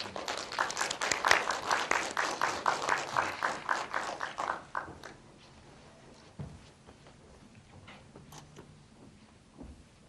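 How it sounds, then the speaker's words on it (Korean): Cinema audience at a film screening Q&A applauds the director coming forward, a rhythmic burst of clapping for about five seconds that stops abruptly, leaving a quiet, large theatre with faint shuffling and a few scattered knocks. "박수 좀 부탁드릴게요"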